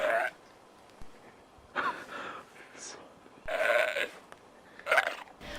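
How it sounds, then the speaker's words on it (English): Unseen animal in the woods calling in several rough, bleating grunts like a goat or pig, spaced a second or two apart, moderately close against quiet surroundings. "it sounds like a goat or a pig"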